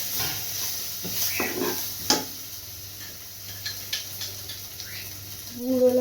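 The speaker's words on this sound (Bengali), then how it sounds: "গুঁড়ো লঙ্কা দিয়ে যে পেস্টটা বানিয়েছিলাম সেটা হালকা জল দিয়ে মিশিয়ে আর একসাথে দিয়ে দিচ্ছি" Chili powder paste mixed with water goes into a simmering chicken curry, giving a close, steady sizzle with scraping stirs and a few clicks of the spoon against the pan.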